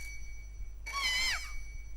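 Phone ringtone in Parasite Eve 2, a single bright chiming tone burst with descending melodic notes, clear and close, lasting about half a second over a low background hum.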